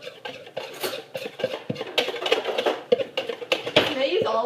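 Pancake batter is mixed in a bowl, with irregular clinks and scraping of a utensil against the dish, close by, while people talk over it.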